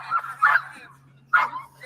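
A police dog at an arrest scene gives a few sharp, close barks and yips in quick bursts, separated by brief pauses over a low steady hum.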